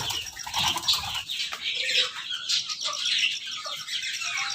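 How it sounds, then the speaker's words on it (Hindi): Australian parrots in a bird shop in Gujrat chirping and flapping their wings, a busy, continuous mix of high twittering calls and fluttering close by. "और ये ऑस्ट्रेलियन तोते हैं"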